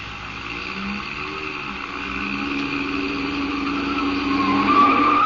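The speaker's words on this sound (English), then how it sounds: "You turn that corner on 2 wheels." A car in an old-time radio drama swings fast around a corner, its steady engine drone building into a loud, rising tire squeal near the end, with no voices.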